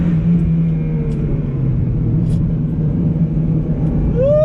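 A 1999 Mazda Miata NB held flat through a corner, its engine a steady, loud droning rumble with road noise and no talk, ending in a short rising tone.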